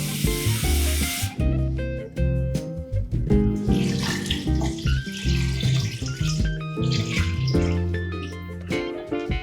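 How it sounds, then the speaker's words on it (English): Tap water runs into a cooking pot, a steady splashing gush that changes pitch as the pot fills, with clinks and rubbing of the pot against the sink, close and loud. "fill this up with water"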